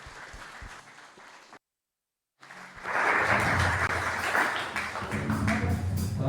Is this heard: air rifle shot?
no